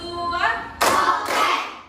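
A class claps hands in a counted rhythm: a voice is heard first, then two sharp, loud claps about half a second apart, close by.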